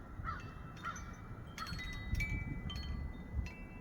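Crows caw from their nest outdoors, several harsh calls in a loose rhythm, heard at a moderate distance over low wind rumble.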